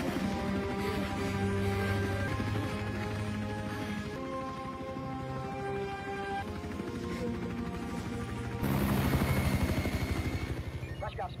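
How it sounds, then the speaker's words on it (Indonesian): A helicopter's rotor chops in a rapid steady rhythm over a droning engine, growing louder and harsher toward the end. "Tak lama kemudian datang sebuah helikopter yang disinyalir adalah tim penyelamat, di mana Eva langsung naik"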